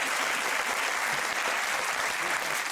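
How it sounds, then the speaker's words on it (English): A studio audience at a comedy quiz show breaks into loud, dense applause, a continuous even roar of clapping filling the whole moment with no talk over it. "Give him a round of applause."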